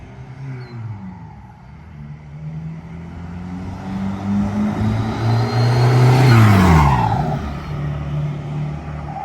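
A diesel Volkswagen Jetta TDI with an 8-inch stack exhaust revs up and down with a deep, throaty exhaust rumble, swelling louder mid-clip then easing, close by and without speech.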